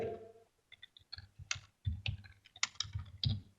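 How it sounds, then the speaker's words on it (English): Keystrokes on a computer keyboard while entering details into a mobile crowd-sourcing app, coming in irregular bursts of close, crisp clicks with short pauses, no voices. "I'm typing here."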